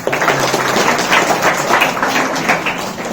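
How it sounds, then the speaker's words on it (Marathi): A class bursts into dense, continuous clapping, many hands applauding together at close range for a few seconds without pause. "सगळ्यांनी टाळ्या वाजवा"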